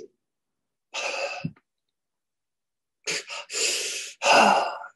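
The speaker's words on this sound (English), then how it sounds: "So I'll start with bad breathing." Irregular, jerky breathing demonstrated by a person: abrupt breaths and sighs in uneven bursts, one short gasp-like burst, a long pause, then three or four rapid, forceful exhalations, close and clear.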